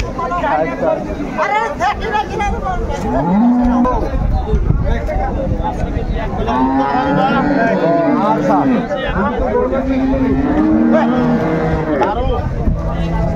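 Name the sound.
dairy cows and calves at a cattle market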